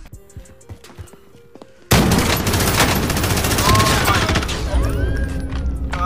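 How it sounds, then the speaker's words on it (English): Gunfire in the video game Warzone: after quiet game sounds, a sudden loud burst of rapid automatic shots and heavy booms erupts and continues densely to the end. "Little Timmy's getting shot!"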